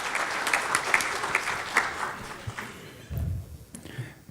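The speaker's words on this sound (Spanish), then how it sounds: "Recibimos con un aplauso al doctor y le dejamos la mesa." Applause from an audience at an energy-efficiency forum on transport, welcoming a doctor to the speaking table; dense steady clapping that fades over a few seconds.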